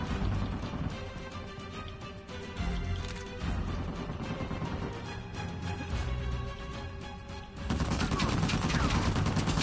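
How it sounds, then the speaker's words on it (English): Sustained gunfire in the video game Uncharted 4, rapid overlapping shots and automatic bursts throughout, loud and dense, with a heavier surge near the end, no clear voices. "Stop shooting."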